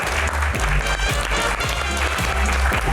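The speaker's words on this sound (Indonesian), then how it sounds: "Tepuk tangan dong." Studio audience applauding guests Abraham Samad and Refli Harun on an Indonesian talk show, loud continuous clapping with crowd noise and thumping low rumble underneath, no voices rising above it.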